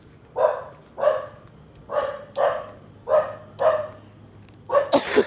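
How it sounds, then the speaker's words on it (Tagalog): Small dogs bark in six or seven short, loud bursts at a steady pace, heard close by while out on a walk, with a sharper final yip near the end. "Malalakas ang mga tahol pero ang liliit lang nila eh."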